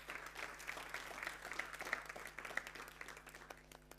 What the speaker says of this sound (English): Big round of applause for Tharim.